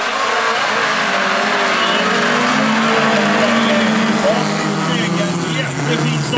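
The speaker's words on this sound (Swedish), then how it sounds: "Vi har startat med Erik Patrik Stryk i sin Volvo." A Volvo folkrace car races in a heat, its engine roaring continuously with tyre and gravel noise, loud and steady under a commentator's voice.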